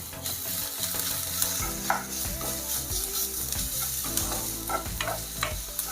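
Steady sizzling of onion frying in a pan, with occasional stirring scrapes, close and continuous with no voices.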